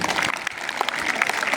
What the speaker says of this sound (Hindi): उनके लिए जोर से ताली बजाओ।